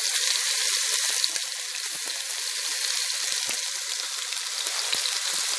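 Beef ribs fry in a pan for a Saturday lunch of ribs with cassava, giving a steady, close, loud sizzle with small crackling pops throughout and no talking.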